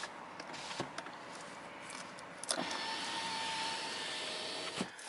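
The power window motor of a 2022 Kia Stinger whirs steadily for a couple of seconds, close and fairly quiet, with soft clicks of the switch before and after.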